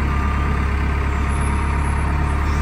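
A forklift engine idles steadily with a deep, even low rumble throughout, a constant near mechanical drone with no distinct handbrake click standing out.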